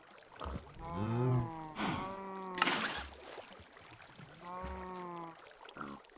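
Cows low in the Ozone Skyblock Reborn Minecraft modpack: several drawn-out, wavering moos come one after another with short gaps, clear and fairly close, with no talk over them.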